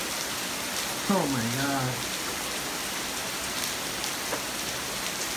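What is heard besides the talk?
severe rainstorm at night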